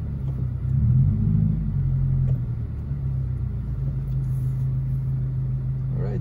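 A 2022 Subaru WRX cruises at night, its engine a steady low rumble with a brief swell of acceleration early on, then settling into a smooth, even drone from inside the cabin.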